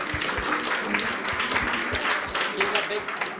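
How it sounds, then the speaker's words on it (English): An audience at a human rights conference applauds, a dense, steady wash of many hands clapping that carries on without a break, with voices murmuring underneath. "Give a big applause"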